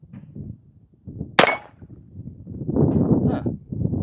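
A Heritage Rough Rider .22 LR revolver fires a single sharp crack at a metal target about 20 yards out, followed by wind rumble outdoors.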